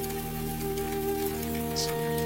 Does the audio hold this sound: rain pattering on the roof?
yes